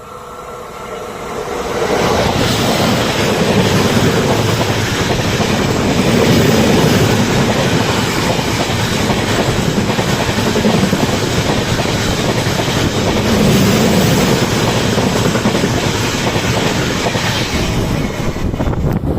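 An express train runs through Agwanpur station without stopping. A loud, continuous rush of wheels and carriages rises within the first two seconds and holds steady, with faint clickety-clack rhythm and wind buffeting the microphone.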